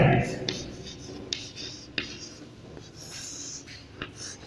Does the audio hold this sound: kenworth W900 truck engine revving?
no